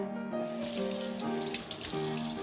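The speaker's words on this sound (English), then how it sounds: "it says for you to run cold water over this" Cold water runs steadily from a tap, a continuous close splashing stream with a tonal ringing hum underneath, and no one speaking.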